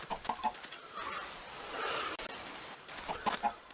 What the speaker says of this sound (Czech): Už tu máme 3 dospělé slepičky.